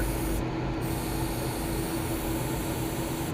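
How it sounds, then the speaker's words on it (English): Steady hissing spray of an airbrush with a built-in compressor spraying chrome paint, continuous and even throughout with a broad airy texture and no talking. "What a dandy little airbrush."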